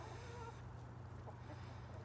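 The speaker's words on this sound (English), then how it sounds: "are y'all happy chickens?" Backyard chickens cluck softly and intermittently in the distance over a steady low background hum, with no voices.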